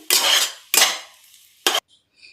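Spoon scraping and clinking around a bowl while mixing potato masala for a sandwich filling, three quick loud strokes in succession, close up with no voices.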